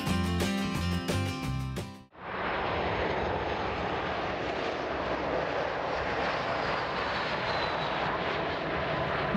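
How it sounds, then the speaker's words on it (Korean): After a brief burst of music, an airplane's engines roar steadily and loudly as it comes in to land, sustained without any speech. "멀리서 꿈을 가득 싣고 날아온 비행기가 부드럽게 착륙합니다."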